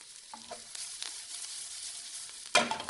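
Tomatoes cook in a covered pan for Sindhi besan sabji, giving a soft, steady sizzle with a few faint clinks, then a brief louder burst of frying near the end.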